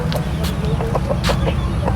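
Chickens cluck in short, repeated bursts over a steady farmyard rumble, several birds close together, with no talking.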